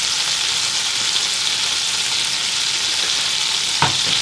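Butter bubbling in a skillet over lowered heat as mushrooms sauté, a steady close sizzle with a faint stirring scrape near the end, no voices.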